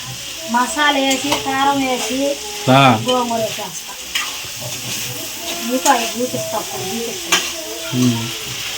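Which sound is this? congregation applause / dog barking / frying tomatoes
frying tomatoes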